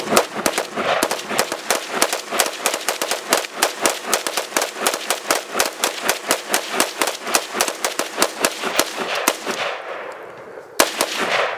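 .223 rifles, two guns, fire at a rubber dummy outdoors, a long loud string of sharp overlapping shots in quick irregular rhythm, with a few final reports after a short pause.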